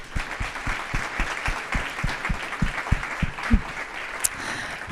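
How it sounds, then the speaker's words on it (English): A conference audience at a women's leadership event claps, a sustained patter of many hands that is fairly steady and moderately loud, with no talk over it. "let's give them a warm round of applause."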